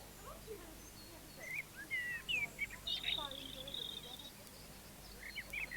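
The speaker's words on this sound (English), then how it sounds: "The cafe on the terrace allows visitors to savour the charm of the garden birds." Garden birds chirp in scattered bursts of short tweets and trills around a park cafe terrace at Glenveagh National Park, moderately close over a soft outdoor background with faint voices.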